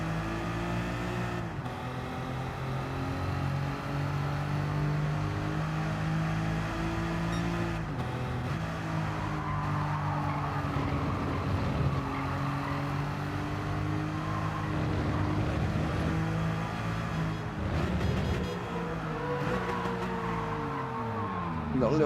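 A Ferrari race car engine hums steadily in Gran Turismo 7, holding sustained harmonic tones that rise and fall through gear changes over a long stretch, with occasional voice underneath.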